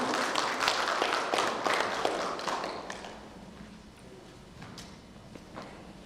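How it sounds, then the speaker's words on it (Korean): An audience claps to welcome a presenter at a Gyeonggi Provincial Council policy forum on small and medium businesses. The applause starts fairly loud and gradually thins out into scattered claps and room noise. "큰 박수로 환영해 주시기 바랍니다."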